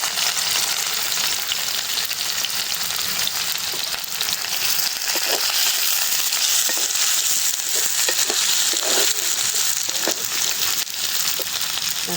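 Chopped onion, chili and garlic fry in hot oil with cumin in a pan, giving a loud, continuous sizzle with occasional stirring crackles throughout, and no voices.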